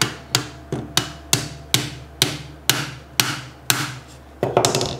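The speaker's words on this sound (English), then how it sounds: "I'm gonna have to use a little bit of a hammer persuasion on it." A hammer tapping a punch into a rifle trigger assembly while a Timney Alpha trigger is installed in a Palmetto State Armory Dagger, about ten sharp metallic strikes at a steady pace, close and clear, with a quick flurry of taps at the end.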